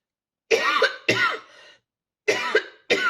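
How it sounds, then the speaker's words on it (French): Several harsh coughs close to the microphone, two quick ones, a pause, then two more, with silence between. "je tousse toujours"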